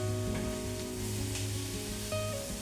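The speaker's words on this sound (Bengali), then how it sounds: "সব শুদ্ধ নিয়ে উল্টে দিচ্ছি, তাহলে দু পিঠ ভালোভাবে, দুটো সাইডই ভালোভাবে ফ্রাই হবে" Paneer, capsicum and tomato fry on a tawa, giving a soft, steady sizzle at moderate distance with a faint background hum and no voices.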